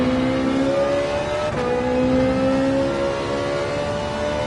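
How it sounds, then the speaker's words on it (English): A race car engine in Gran Turismo 7 held at high revs at its limit, a loud steady droning whine with a brief dip and recovery midway, no talk. "I've revved out, what is that, the 4th or 5th time this race that I've revved it out"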